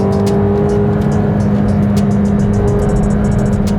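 McLaren 720S sports car engine driving through a 7-speed dual-clutch gearbox, a steady loud mechanical drone with a constant tone and faint clicking above it, no voices.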